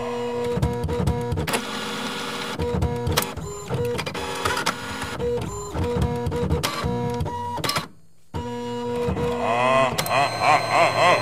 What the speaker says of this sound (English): I'm the new haunted printer.